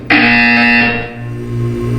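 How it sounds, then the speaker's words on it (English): A sustained electronic buzzer from the video game Portal 2 blares loudly for about a second, then gives way to a lower droning hum. "You will hear a buzzer. When you hear the buzzer,"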